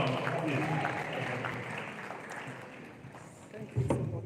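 Audience applause at an economic summit lecture in Ile Ife, a steady wash of clapping that holds for several seconds under voices and shouts, thinning slightly before a brief louder burst near the end.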